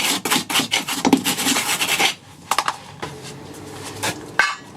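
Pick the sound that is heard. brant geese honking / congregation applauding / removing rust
removing rust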